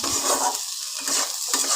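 Malabar spinach seeds frying in a pan while being stirred, a steady bright sizzle with scraping spatula strokes, close and continuous with no talking.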